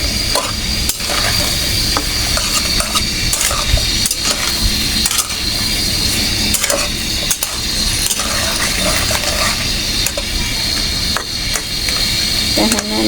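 Okra tossed into a pan with shrimp and stirred while frying, giving a steady, loud sizzle with scraping and clattering spoon strokes throughout.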